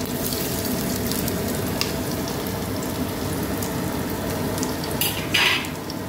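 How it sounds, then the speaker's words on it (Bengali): Chopped onions dropped into hot oil fry with a steady, close crackling sizzle that holds evenly throughout, with a brief brighter hiss near the end. "প্রথমে কুচনো পেঁয়াজগুলো ছেড়ে দিলাম তেলের মধ্যে।"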